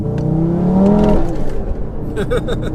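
A 740bhp Audi RS3 accelerating hard, engine note climbing sharply in pitch with a loud, close rev that drops back as gears shift; people talk inside the car over it.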